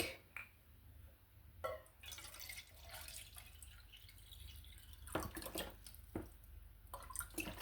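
Water is poured into coconut milk for a coconutless buko salad, making faint, intermittent trickling and dripping splashes in a quiet kitchen.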